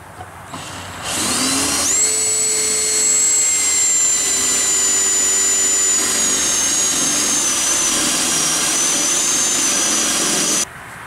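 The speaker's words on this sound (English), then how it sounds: "So drill the spot welds out." Power drill boring out spot welds on the rusty door pillar frame of a 1973-1979 Ford F-150 truck, a loud steady high-pitched whine running for about nine seconds before cutting off.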